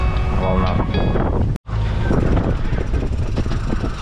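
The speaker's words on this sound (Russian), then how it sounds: "мы идем сейчас прямо против ветра, и волны очень короткие, маленькие, прямо будет валить сейчас, бить нас" Wind buffets a sailing boat heading straight upwind into short, small waves, a loud close rush of wind noise and water slaps with a brief dropout, while people talk over it.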